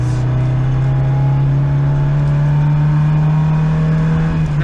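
A Peugeot car engine revs hard on a full-power hill run at a Peugeot festival, a loud, close, continuous roaring drone that holds steady throughout without speech.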